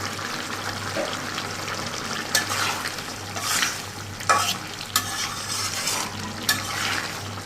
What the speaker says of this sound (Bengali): আলু কষানো হয়ে গেল